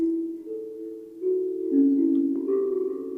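Clean, soft plucked kalimba notes ringing and overlapping, a gentle sequence of mellow tones played alone at moderate volume.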